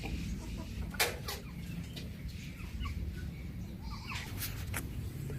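Farmyard chickens heard at a distance, with a few scattered soft clucks and brief calls over a low steady background rumble, faint and without speech.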